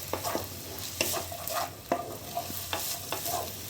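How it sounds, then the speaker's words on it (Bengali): Chopped onion and capsicum fry in a pan while a spatula stirs them in steady, repeated scraping strokes over a soft continuous sizzle, close and fairly quiet. "ক্যাপসিকামটাও হালকা ভাজবো।"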